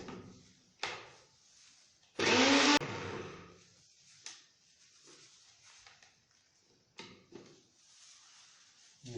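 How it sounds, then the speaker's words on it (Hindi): An electric grinder whirs loudly for about half a second as it grinds cardamom and melon seeds together, surrounded by clunks and knocks from handling the jar and lid, with no voices. "इलायची और मगज़ ख़यार इन दोनों को हम इकट्ठा पीस लेंगे पहले।"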